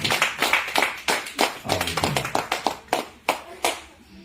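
Hands clapping in a church congregation, a series of sharp rhythmic claps with uneven spacing, fairly close and loud, thinning out toward the end.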